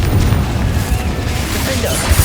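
Bombarda and Confringo explosion spells go off in the Hogwarts Legacy video game as a loud, continuous rumbling roar of blasts, with voices likely shouting over the din.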